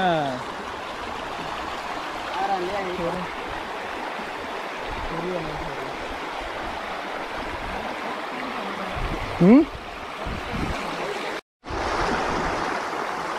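A strong river current pours over small stones at the Indo-Nepal border near Thori, a steady close rushing wash with occasional splashes and brief voices, cutting out abruptly near the end.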